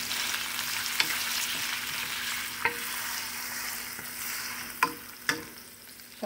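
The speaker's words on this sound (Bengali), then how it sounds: "তো এবার এই পেঁয়াজ কুচিটাকে দিয়ে একটু সুন্দর করে ভেজে নিব।" Chopped onion from one large whole onion fries in a pan for a chicken bhuna, giving a steady close sizzle with a few sharp clicks and scrapes of stirring scattered through.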